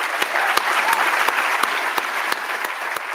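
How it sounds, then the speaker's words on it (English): A crowd at a college meeting gives loud, sustained applause with a steady wash of clapping. Regular sharp thumps recur through it at a steady beat. "Please let's all give them a applause."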